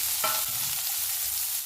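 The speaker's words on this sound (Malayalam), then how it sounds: "നമുക്ക് നന്നായി ഒന്ന് വഴറ്റിയെടുക്കാം" Onion, crushed ginger-garlic and green chillies sautéed in a hot pan, a steady loud sizzle with a spatula stirring and scraping through it, close up and continuous.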